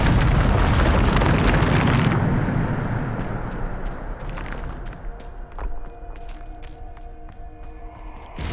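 A Bombarda blasting spell detonates in Hogwarts Legacy, a loud close booming explosion with a roaring rumble that fades into crackling debris and scattered small pops.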